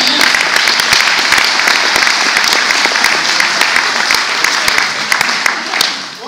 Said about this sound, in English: Big round of applause for this man.